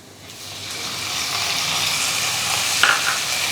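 Chicken mince sizzles and fries with lightly golden garlic in hot oil in a pan, a steady loud hiss with stirring scrapes and a couple of small pops, no voices.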